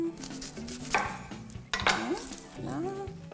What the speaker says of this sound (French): On va couper des oignons.